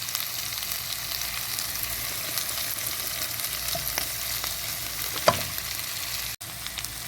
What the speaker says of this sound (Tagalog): stir fry the onion in front of the chicken